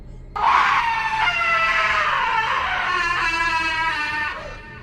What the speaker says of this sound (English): a second scream was let loose with even more force than the first